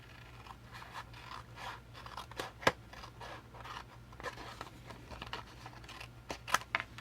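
Scissors snip through paper for a groom tuxedo mini album page, faint close cuts and scratchy rustles coming in a loose, irregular rhythm.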